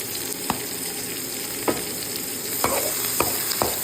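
Ginger and black pepper fry in hot cooking oil, making a steady close hiss of frying broken by five sharp spoon-on-pan knocks spaced irregularly, with no talking.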